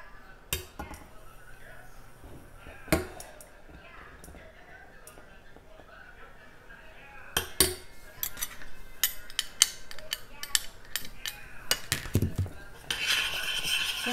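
A metal spoon clinks and scrapes against a bowl while stirring raw local honey into strawberry chia seed jam, with sharp intermittent knocks and rapid, busy scraping toward the end, close and fairly quiet.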